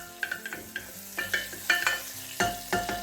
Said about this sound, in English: get it nice and hot. And we're going to go in first with some butter.